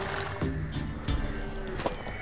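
A horse in Witcher 3: Wild Hunt snorts and whinnies over steady background game ambience, with a couple of short vocal bursts and a light thump, fairly quiet overall.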